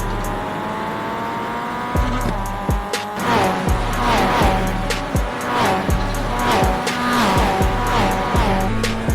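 Race cars in the iRacing video game roar loudly at close range, engines revving and shifting with repeated tire squeals, while another car's engine follows closely behind.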